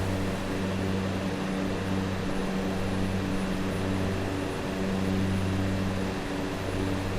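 Airplane engine in Microsoft Flight Simulator 2024 during a slow climb toward 4,000 feet, a steady, droning propeller hum with constant tonal layers holding unbroken and loud for the whole stretch.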